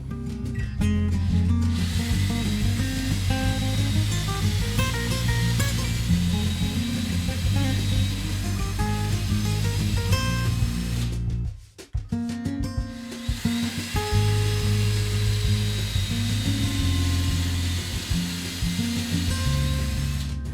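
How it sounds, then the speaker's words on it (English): A drill grinds steadily through wood, loud and close, with a brief pause midway before the rough boring resumes. "I'm going to go ahead and just drill through to my tape mark here on this location"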